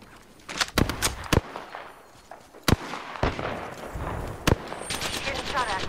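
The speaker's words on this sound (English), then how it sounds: "Getting shot at." Rapid bursts of gunfire from a first-person battle royale shooter, Apex Legends, sharp cracks clustered irregularly over a steady game background, some shots loud and close and others further off.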